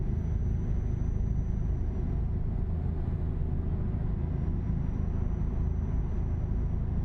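A truck engine in the Euro Truck Simulator 2 video game drones at a steady low rumble throughout, with no talk over it.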